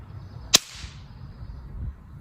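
A whip cracks once during a beginner whip-handling lesson: a single sharp, loud snap early on, then a quiet low background hum for the rest.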